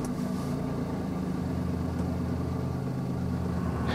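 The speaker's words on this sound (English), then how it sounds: "Let me go ahead and start the car." A BMW i8 idles steadily after starting, a constant low engine hum with a mid-range drone that holds even and close for the whole stretch, with no speech.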